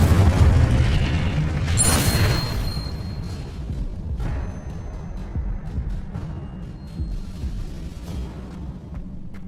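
Spell explosions in the video game Hogwarts Legacy: a loud blast opens with a burst of crackling, then decays into rumbling debris and scattered smaller pops that fade over several seconds, with no talking.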